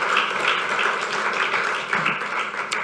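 A summit audience applauds throughout, a steady, dense wash of many hands clapping at fairly even loudness with no speech over it.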